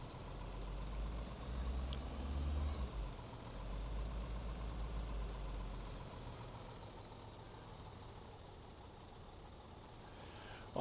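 Heavy truck engine in Construction Simulator 15, hauling a small excavator up a hill at full throttle; a low, steady diesel drone rumbles throughout, heavier in the first half, with no talk.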